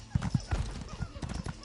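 Horse hooves clip-clop in The Elder Scrolls Online on PS4 Pro, a quick run of close, fairly loud hoofbeats with a brief whinny, and game audio continuing underneath.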